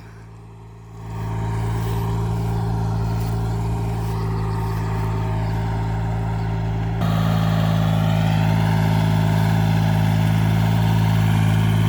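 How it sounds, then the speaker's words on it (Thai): A 22-horsepower tractor engine fitted with paddy cage wheels starts up and runs at a steady, loud, low rumble, growing slightly louder partway through. "ผมใส่นะครับ รถไถนะครับ"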